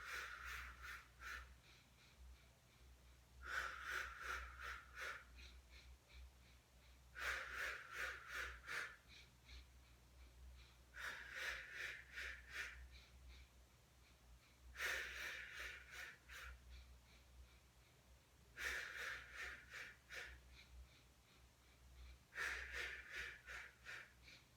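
Deep, slow breaths during a beginner Pilates mat exercise, six long even breath cycles with steady rises and falls, moderately close and alone with no talking.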